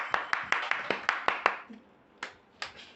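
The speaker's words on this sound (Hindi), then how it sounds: "तो ऐसे इंटेलिजेंट बच्चों के लिए ताली बजाइए आप।" A small classroom audience clapping for a student, a quick run of sharp, close hand claps that breaks into a few scattered claps before fading.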